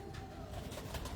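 Prized Multan breed pigeons coo softly and steadily for a brief moment, a low murmuring coo set against a faint background hum.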